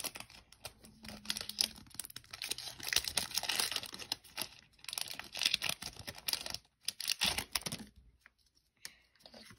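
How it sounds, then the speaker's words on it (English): Crinkly foil wrapping of a Pokémon trading card pack rustles and tears open in close, irregular bursts of crackling, with short quiet gaps between handlings. "Let's open the first pack."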